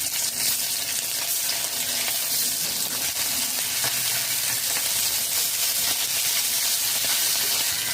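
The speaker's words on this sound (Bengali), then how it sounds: "তেল দিয়েছি কড়াইতে, মাছ দিয়ে দেব।" Pata fish, rubbed with turmeric, chilli powder and salt, fries in oil in a wok with a loud, constant close-up sizzle and crackle that never lets up.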